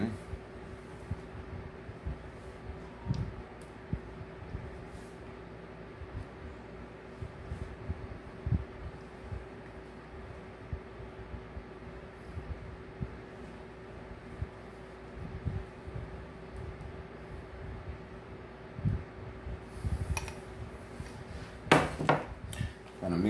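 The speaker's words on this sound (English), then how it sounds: "Mix that about 2-3 minutes until we get the consistency we're looking for" Sugar, butter and corn syrup being mixed in a bowl for a bourbon glazed sweet potato pecan pie filling, with soft, steady utensil scraping and light taps over a low appliance hum, faint and close, louder clinks near the end.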